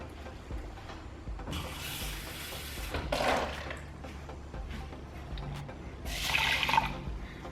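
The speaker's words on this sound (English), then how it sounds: "I'm going to pour it in here, and I'm going to add 1 cup of water." Water pours into rice in a few short bursts, a splashing rush that starts and stops over a quiet room background.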